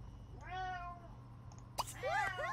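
Cat meows from The Sims 3 game: one drawn-out meow, then after a short pause a quick pair of rising, bright meows, clear over a low game hum.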